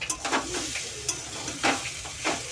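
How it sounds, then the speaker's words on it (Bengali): Potatoes fry in a pan for a home-cooked Ekadashi meal, giving a soft continuous sizzle broken by a few sharp clinks and scrapes of stirring, close and moderately quiet with no talking. "আলু ভাজা করছি"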